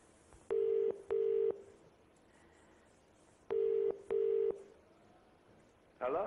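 An outgoing phone call rings on the UK quiz show Who Wants To Be a Millionaire: two British-style double-burst ring tones sound in a quiet room, followed by a brief noise at the end.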